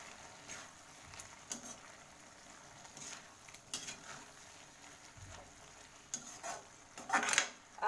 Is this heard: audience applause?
no